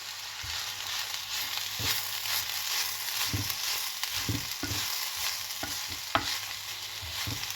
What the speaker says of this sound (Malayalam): എണ്ണയിൽ ഇതൊന്ന് ജസ്റ്റ് വഴറ്റിയതിന് ശേഷം നമുക്കിതൊന്ന് അടച്ച് വെക്കാം